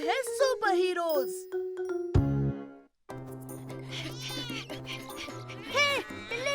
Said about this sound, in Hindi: हे, बिल्ली रुक जा।